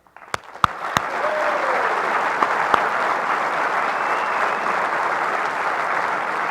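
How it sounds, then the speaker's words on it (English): Sustained applause from an audience at an event honoring defenders of Israel, rising quickly after a few sharp claps into a steady, full roar of clapping that holds evenly throughout, with no speech over it. "So please join me for one last round of applause for our winners."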